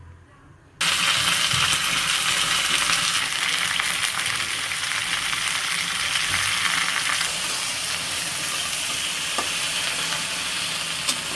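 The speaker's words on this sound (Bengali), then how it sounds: "এখন ভেন্ডিগুলো ভেজে নেই" Okra (bhindi) frying in hot oil, a steady close sizzle starting abruptly after a brief quiet moment and holding loud and constant, with occasional faint clinks of utensils.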